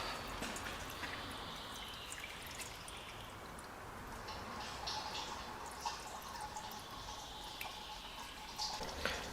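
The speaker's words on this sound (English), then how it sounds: "Drain your oil out." Engine oil drains from the sump of a BMW N47 diesel engine, a steady trickling pour with faint drips running continuously and at a low level throughout.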